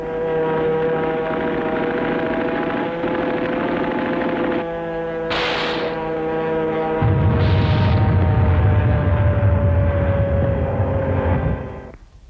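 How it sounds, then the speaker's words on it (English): Propeller-driven carrier planes of the US 5th Fleet in 1945 over Japan and Okinawa, a steady droning engine roar with a deep rumble joining partway through, loud and continuous with no talk. "Carrier planes of Admiral Spruance's 5th Fleet hit the home islands of Japan"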